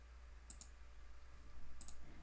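Faint computer mouse clicks in a quiet room during animation work, two quick double clicks spaced about a second apart over low background hum.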